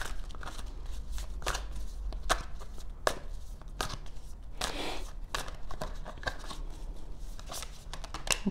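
Tarot cards are drawn from a deck in a quiet room. Soft, close shuffling and card-slapping sounds come in irregular bursts, with no speech.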